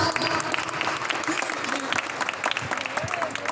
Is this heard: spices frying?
no